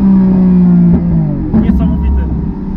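A Lamborghini Aventador S Roadster accelerates hard while losing traction. Its loud, close engine drone holds steady, then drops in pitch as it shifts, and a voice talks over it.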